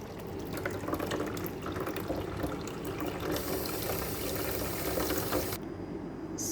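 Tapioca pearls being washed under running tap water, with a steady close splash and trickle throughout, shifting in tone partway through.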